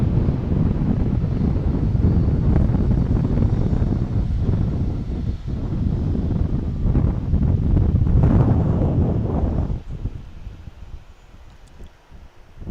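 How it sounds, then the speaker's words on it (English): A Boeing 737-800 arriving at Dallas Love Field roars loudly and steadily for about ten seconds, with wind buffeting the microphone, before the engine noise drops away and fades to a quieter rumble. "Another 737-800 arrival."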